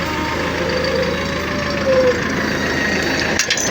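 A tractor with a Perkins engine, reportedly from around 2000, runs at a steady low idle. Its continuous rumble carries a faint tonal whine partway through.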